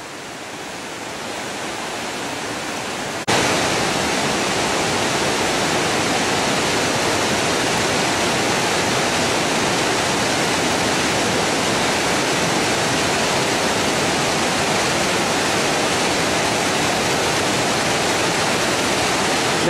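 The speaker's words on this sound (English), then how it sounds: "That is some serious water power going over that falls, let me tell you." Waterfall with water rushing over the falls into a river, a dense, loud, steady roar that starts abruptly and continues unbroken, with no talk.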